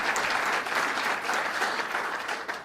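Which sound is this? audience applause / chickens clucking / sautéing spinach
audience applause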